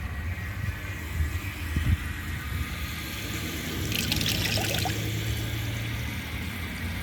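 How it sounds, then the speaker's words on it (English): Water runs quietly into a 1981 Eljer Emblem toilet tank as it refills after a flush test, a low steady trickle and hiss with a soft low hum, faint and continuous. "Let's wait for that tank to fill up"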